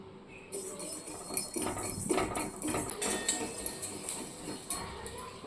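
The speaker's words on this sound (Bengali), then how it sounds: "গোটা মশলাগুলো ভাজা হয়ে গেছে যে পুটপুট করে ফাটছে" Whole fennel seeds, peppercorns and cumin dry roast in a hot kadai with close, continuous crackling and popping, mixed with metallic clinks and scrapes against the pan.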